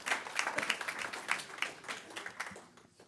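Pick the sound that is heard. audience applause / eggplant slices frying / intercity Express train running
audience applause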